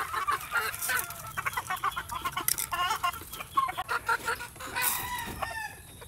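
A hen clucks in a run of loud, close, irregular calls after laying an egg, with other chickens of a backyard flock faintly around, no speech.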